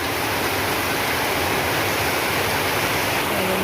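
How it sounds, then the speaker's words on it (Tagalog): Heavy rain pours down in a constant, dense hiss and roar that stays loud and unbroken throughout, with no voices. "Ng lakas ng ulan."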